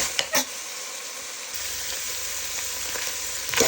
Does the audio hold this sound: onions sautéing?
yes